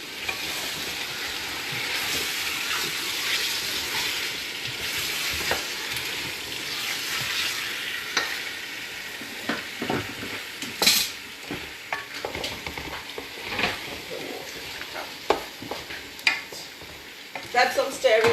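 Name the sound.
mustard frying and being stirred in a pan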